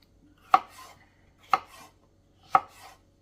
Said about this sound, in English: I'm just chopping up 1 bell pepper and 1 onion.